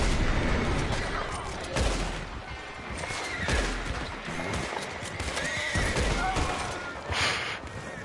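A frightened horse whinnies in the video game Red Dead Online amid a busy, noisy scene with hoof clatter and sharp bursts of gunfire, all fairly loud and continuous.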